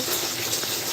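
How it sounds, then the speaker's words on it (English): A bathtub tap runs steadily into a water jug, a continuous close, loud gush of water with no pauses. "This is the whole reason why I use the bathtub to fill up the water jug, because it takes freaking forever."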